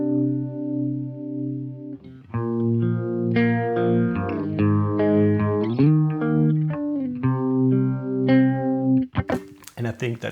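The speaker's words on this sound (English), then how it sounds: "The next setting is to emulate an univibe sound" Guitar through a pedalboard effect emulating a univibe, producing sustained chords with a gentle swirling, pulsing modulation; a quiet opening note gives way to fuller strummed chords that ring on steadily, ending in a brief burst of noise.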